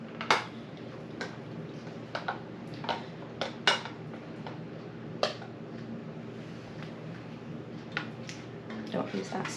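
A metal spoon clinks against glass jars while bacon jam is spooned in, giving scattered sharp ticks and taps at an uneven pace over a steady low background hum.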